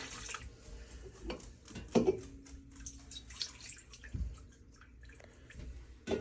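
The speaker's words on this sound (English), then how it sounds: "you just have to pick it up, pour it in, until you think you get a full jar." Fresh cow's milk pours from a container into a jar, a soft steady liquid stream with faint drips and a few light knocks of glass nearby. There is no talk.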